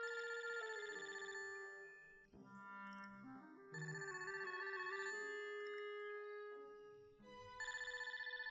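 A mobile phone rings indoors with a steady, loud electronic ringtone melody that repeats in bright tonal phrases, with no talking over it.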